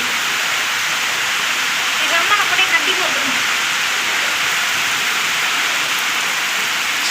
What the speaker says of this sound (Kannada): ಮಳೆ ನೋಡಿ ಸಿ ಗಾಳಿ ಮಳೆ ಬರ್ತದೆ